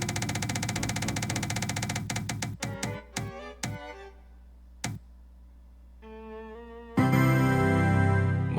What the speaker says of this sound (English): So let's just spin the wheel and see how it goes